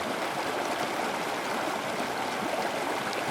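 A river rushing and flowing in a Hindi cartoon story, a dense, constant wash of water noise at steady loudness with no distinct splash standing out.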